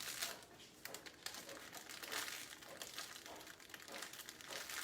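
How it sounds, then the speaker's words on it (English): Cellophane is wrapped around candy to make a graduation lei, giving soft, close crinkling and rustling that continues with small bursts and pauses, fairly faint. "all you have to do is just kind of wrap the cellophane around it again."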